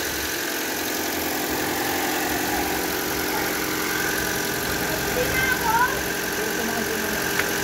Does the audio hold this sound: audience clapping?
no